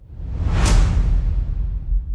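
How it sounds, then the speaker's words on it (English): A single rushing whoosh swells to a peak and then trails off into a low, steady roar, like a jet passing. "A Transition 5 is like it has like a jet engine sound."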